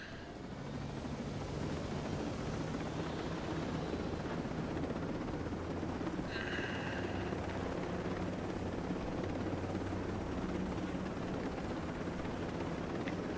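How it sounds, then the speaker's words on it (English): Helicopter in the video game Ghost Recon Breakpoint, a steady, loud rotor and engine drone that runs continuously with no speech. "Take this helicopter."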